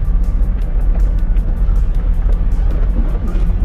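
Dense road traffic of cars passing a police checkpoint at the Punjab–Sindh border crossing near Kotsabzal, a loud, close, steady engine rumble with rapid ticking rattles running through it.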